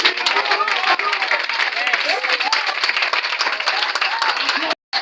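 A church congregation at a Sunday service applauding to acclaim Christ, dense sustained clapping from a large crowd filling the room, with voices calling out over it before a brief cut.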